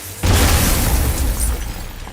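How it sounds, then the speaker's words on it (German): A sudden explosion bursts in the video game God of War, a loud close boom with a crackling, shattering tail that slowly fades over about two seconds. "Er ist nicht komplett explodiert"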